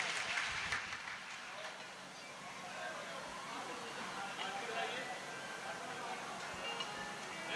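Loud, sustained applause from a crowd welcomes a bhajan singer at a Shrimad Bhagavat Katha gathering in Sarsawa, Saharanpur. The clapping runs steadily throughout, mixed with voices.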